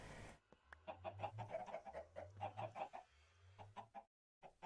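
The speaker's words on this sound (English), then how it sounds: "We've got 18 chickens here." A flock of Minecraft chickens clucking steadily in overlapping bursts over a low recurring hum, close and fairly loud, tapering off near the end after a short gap.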